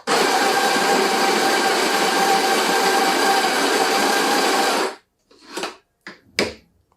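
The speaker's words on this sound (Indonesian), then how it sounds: "Yang paling kasar di grinder ini. Udah mentok di angka 16, sekarang gue giling." An Almaz KG 586 semi-commercial coffee grinder set to its coarsest setting, 16, grinds beans in a loud, steady whir lasting about five seconds, then cuts off, leaving a few short clattering bursts.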